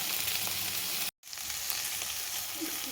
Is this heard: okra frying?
yes